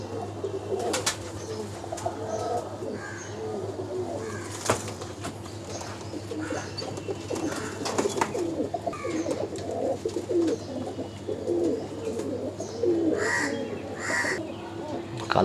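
Pigeons coo continuously at the busy Uluberia pigeon market, soft throaty calls overlapping near and far, with occasional crow caws and faint background chatter from the crowd.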